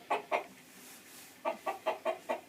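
A chicken clucking while held up and posed for poultry show, two soft clucks then a quick run of five more, close and clear in a quiet room.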